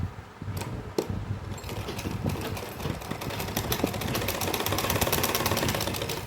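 A sewing machine stitches palazzo pants in a close, loud, fast run of mechanical clatter that starts after a few knocks and builds into a steady rapid rhythm.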